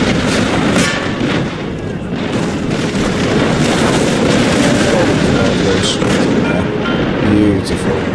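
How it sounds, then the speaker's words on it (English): Cannon fire in a Crusader Kings Total War hybrid battle, a continuous dense rumble of booms and distant artillery blasts layered under the battlefield din, loud and sustained throughout. "Cannons will start firing immediately."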